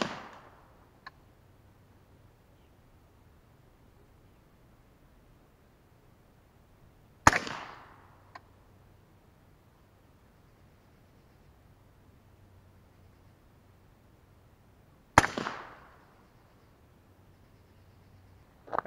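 Subsonic .277 Wolverine rifle shots fired at 50 yards: three sharp, fairly loud cracks roughly eight seconds apart, each with a short fading tail, separated by near-silence outdoors.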